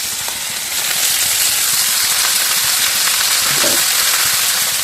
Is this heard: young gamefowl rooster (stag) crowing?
no